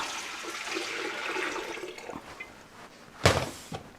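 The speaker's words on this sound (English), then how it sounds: "here I have 9 cups of apple cider vinegar. I'm going to pour into this large stock pot" Apple cider vinegar pours into a large stock pot in a steady, splashing rush that gradually fades, followed by a couple of sharp clunks near the end.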